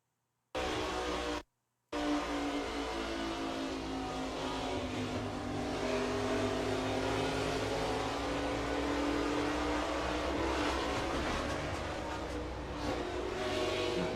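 NASCAR stock car engine roaring steadily from inside the cockpit at Iowa, a loud sustained drone with harmonic whine that barely shifts in pitch, following a brief silent gap near the start.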